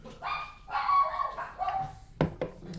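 Dogs bark in the background of a home kitchen while ghost pepper pizza is made from scratch, a few short barks and yips in quick bursts followed by a sharp louder bark near the end.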